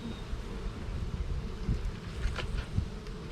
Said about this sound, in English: There's bees coming out this entrance.